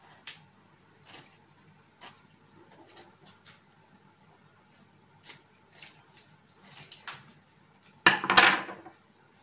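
A knife cuts through a small homemade thyme bread roll, still warm from the oven. A brief, crisp crunching burst comes near the end, after quiet scattered clicks and taps.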